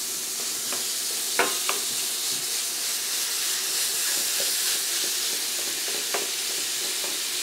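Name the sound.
ground turkey meat sizzling while frying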